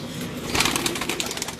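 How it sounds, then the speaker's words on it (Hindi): Pigeons on a rooftop, with soft close cooing and rustling that blend into a dense, brief murmur. "ये कबूतर हैं उस्ताद खान साहब के घर के हैं, उस्ताद इखलाक खान साहब के घर के हैं ये सारे कबूतर"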